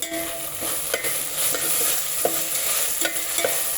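Ginger garlic paste fries in a pan with a close, steady sizzle, punctuated by regular scraping stirs of a spoon against the pan.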